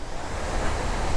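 Rushing water from a waterfall at Kodaikanal, a steady, loud, broadband roar filling the whole clip with no breaks or voices.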